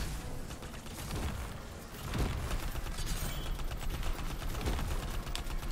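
Rapid gunfire from the video game Anthem rattles continuously, dense automatic bursts that grow a little louder midway and keep going without a pause.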